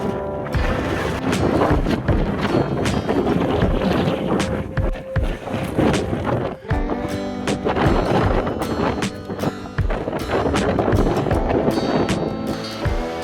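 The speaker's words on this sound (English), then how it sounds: "Just a little wind." Strong wind gusts and buffets the microphone on a mountain trail among short pine trees, a loud, steady roar with sharp bursts throughout.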